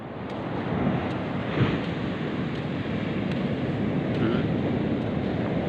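Big waves rolling at sea off Eastern Visayas during a typhoon, a constant heavy wash of surf and wind roaring against the microphone with no break, close and loud.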